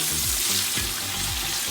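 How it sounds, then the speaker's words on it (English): Onions sautéing in oil for chicken keema, a continuous close hissing sizzle with faint stirring underneath. "In 2 cups of oil, I'm gonna add the onions. I'm gonna saute them really good."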